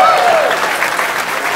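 A talk-show studio audience gives loud, dense applause to welcome guest Mohib Mirza, with many hands clapping continuously and a brief tonal sound near the start.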